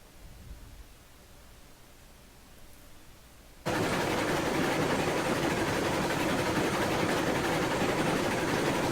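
A Heisler steam locomotive in Railroads Online, its running noise cutting in abruptly partway through as a loud, dense, steady rush and rumble that holds unbroken to the end.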